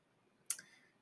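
A single sharp mouse click, crisp and close against a quiet background, with a brief faint ring trailing off after it.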